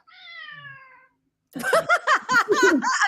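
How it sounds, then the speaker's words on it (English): A house cat lets out one drawn-out meow, followed after a short pause by a burst of choppy, cry-like vocal sounds, close and fairly loud. "That's my cat."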